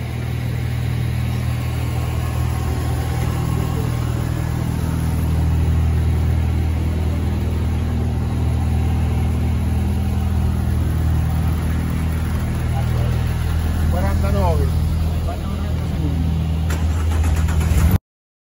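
Renault Clio Cup race cars at the start of a race at the Red Bull Ring, a loud, sustained roar of many engines idling and revving together, steady and close throughout.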